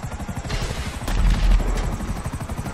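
A helicopter in a video game, its rotor thumping in a rapid, steady pulse that swells briefly in the middle, with scattered gunfire-like crackles mixed in.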